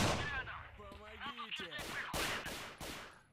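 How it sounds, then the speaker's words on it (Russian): Gunfire in the video game S.T.A.L.K.E.R. comes as several sharp, loud shots in an irregular burst, with a brief voice before the firing. "Там уже начали стрельбу."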